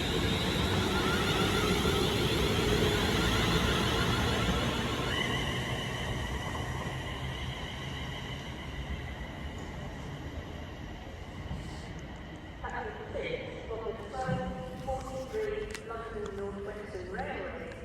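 A London Northwestern Railway passenger train rumbles and clatters as it pulls away from a station, loud at first then easing off, with people talking nearby and a station announcement starting toward the end.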